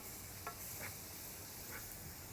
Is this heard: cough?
no